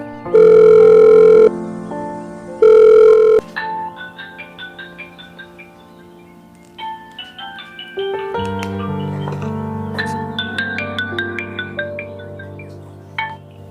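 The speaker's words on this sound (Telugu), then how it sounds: "మా సాయి ఫ్రెండ్కి ఫోన్ చేద్దాం." A telephone tone sounds in two loud bursts with a pause between, followed by a steady electronic melody-like ringtone with ticking notes.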